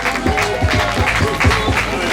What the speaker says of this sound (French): Allez, on peut les applaudir encore bien fort.